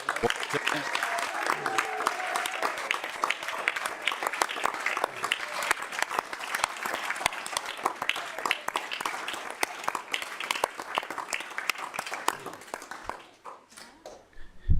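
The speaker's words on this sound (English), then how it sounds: "one more round of applause for all of this" A room full of people at a city council meeting gives a long, lively round of applause with crisp individual claps, which tapers off and dies down near the end.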